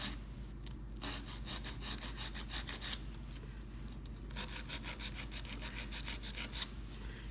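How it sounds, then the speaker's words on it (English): A 180/400 grit nail file scrapes along the sidewalls of a fingernail in quick, repeated back-and-forth strokes, close and dry, in two bursts with a short pause between. "I'm using a 180/400 grit nail file, as I did with the last nail. We're going to start with our sidewalls."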